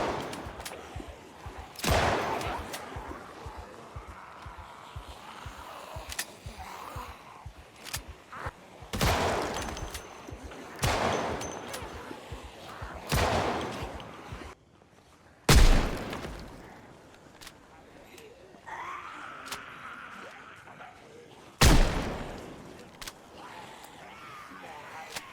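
Crafted firearms fire in the video game Project Zomboid, several loud separate shots spaced across the stretch with quieter background game sounds between them, while a voice talks throughout.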